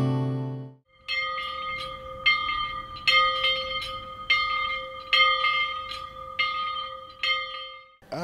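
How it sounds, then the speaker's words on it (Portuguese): Church bells ring from a church tower, repeated clangs with a steady ringing tone beneath them, fairly loud and close, with no voices. "As principais igrejas e capelas, elas têm nas suas torres os sinos."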